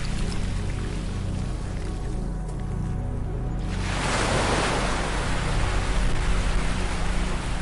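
Ocean waves wash onto a beach as a soft, steady hiss, then one larger wave breaks and surges more loudly for several seconds.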